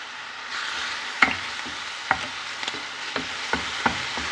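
Chopped onion sizzling in hot oil in a frying pan, a steady close crackle with sharper pops and stirring clicks scattered every half second or so.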